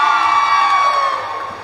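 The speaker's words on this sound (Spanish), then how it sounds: "¡Aplauso para esta mami!" A live contest crowd at the Multicentro Las Americas shopping mall cheers and shouts loudly in a sustained wash of voices that fades slightly toward the end.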